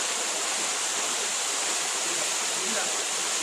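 Constant, loud rushing roar of the Pullaveli waterfall pouring over rocks, a broad, even wash of water noise that fills the whole clip.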